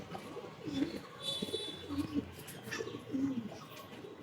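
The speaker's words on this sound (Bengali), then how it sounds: "দেখুন এই যে নর পায়রাটা" A male pigeon of a pure western breed coos in low, rolling phrases that repeat several times at close range over faint background noise.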